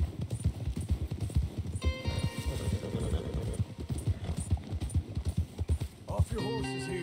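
Rapid hoofbeats of galloping horses in Red Dead Redemption 2 pound steadily and close, with voices talking over them and a brief tonal sound near the end.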